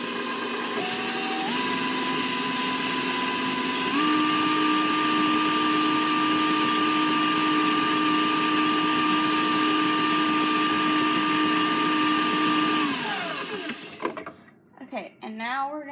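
Electric mixer whirring steadily through ginger snap cookie batter with molasses, a loud buzzing whine that steps up in speed twice, runs for several seconds, then winds down and stops, followed by brief clattering.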